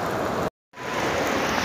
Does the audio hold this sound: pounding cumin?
no